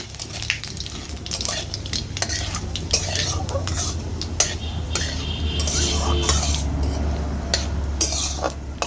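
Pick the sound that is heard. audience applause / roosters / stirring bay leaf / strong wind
stirring bay leaf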